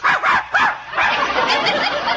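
A dog barks in an old-time radio comedy, several quick yapping barks in close succession, loud and near, with a brief whimpering yip among them and no talk.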